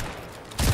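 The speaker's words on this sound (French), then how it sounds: "Deuxième balle de snipe" A single sniper rifle shot in the Unreal shooter game cracks out sharply near the end, loud and close after a moment of low background noise.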